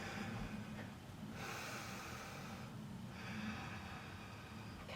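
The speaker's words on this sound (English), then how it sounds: "Take 3 breaths here" Slow, audible breaths in and out during a downward facing dog pose in a hip opening vinyasa yoga class, soft and close with a sharp sniff at the start and a faint room hum beneath.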